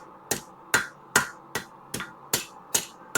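A hammer strikes mushroomed metal on a forged eye hook in eight sharp, evenly spaced ringing blows, close and clear with no talk.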